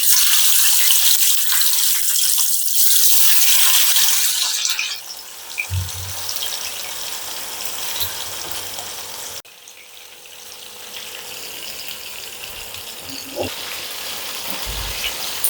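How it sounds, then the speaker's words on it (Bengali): Rohu fish pieces frying in a pan, a steady broadband sizzle that fades after a few seconds into quieter crackling and spitting oil with occasional clatters. "আমি লাস্ট ব্যাচ ভেজে নিচ্ছি।"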